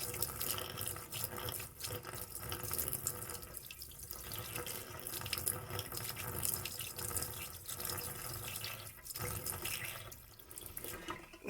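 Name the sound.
liquid poured down a sink drain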